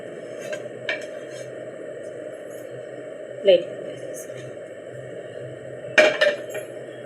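Metal utensils scrape and clink against a plate as food is moved onto it, with a few distinct clatters. A low steady hum sits underneath, and a voice is heard faintly in the background.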